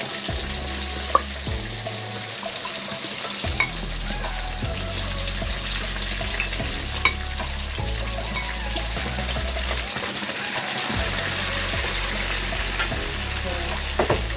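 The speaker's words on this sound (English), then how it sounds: "I'm going to add my gizzard also, and I'm going to fry it in a very low heat because the oil is already hot" Chicken gizzard frying over low heat in already hot oil in a pan, a steady close sizzle with occasional clinks of a utensil stirring, with no talking.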